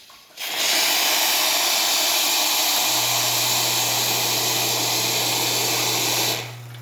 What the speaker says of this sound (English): Now we're going to test the hot water function by turning this.